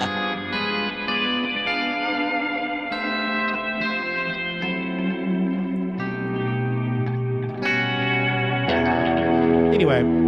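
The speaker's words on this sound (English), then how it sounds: "that's what you're hearing here, which is basically, it's my ultimate echo. It's a dual echo" An electric guitar plays melodic sustained notes through a dual echo pedal, each phrase trailing into repeating echoes and reverb with a slight chorus shimmer, ending in a pitch-bending swoop.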